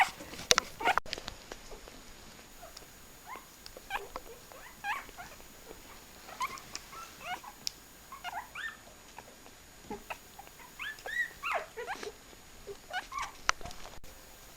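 A litter of foster puppies whimpers and squeaks in a frenzy at feeding time, with many faint, high, scattered yelps and whines over soft shuffling.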